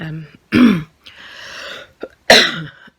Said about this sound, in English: Oh God, the coughing, to be able to get the airways clear, is really getting my nerves now.